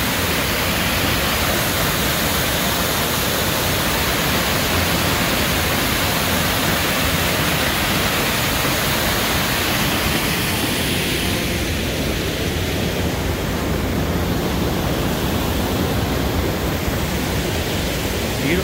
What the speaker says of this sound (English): Abrams Waterfall.